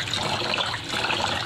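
Rice being washed in water before it goes into a rice cooker, with a loud, steady rush of running, sloshing water right up close.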